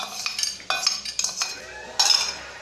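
Gundruk being mixed with fried soybeans and coriander, utensil clinks and scraping against a pot or dish in a few irregular bursts, fairly close, with no talk.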